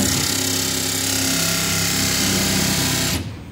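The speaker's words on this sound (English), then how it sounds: "you're going to use the back grinder that is already put on the drill" A drill-mounted grinder whirs loudly and continuously at a high, steady pitch, then cuts off abruptly just before the end.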